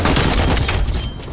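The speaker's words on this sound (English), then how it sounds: "I'm going in with a shotgun" Shotgun blasts and surrounding gunfire in Call of Duty Black Ops Cold War on the Nuketown map, a dense loud burst of booming shots that continues nonstop before easing off slightly near the end.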